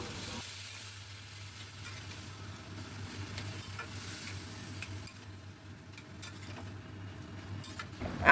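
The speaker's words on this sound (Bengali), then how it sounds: "বেশ সময় ধরে আমি এটাকে নাড়াতে থাকবো।" Boiled, drained taro greens being stirred in a pan, a quiet steady sizzle with faint scraping and occasional utensil clicks, ending in a brief louder clatter.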